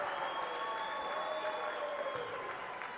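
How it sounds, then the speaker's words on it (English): A volleyball crowd at the 2014 SAC championship match between Wingate and Anderson gives a sarcastic cheer, heard as a steady, fairly distant wash of cheering and clapping filling the whole stretch. "a sarcastic cheer."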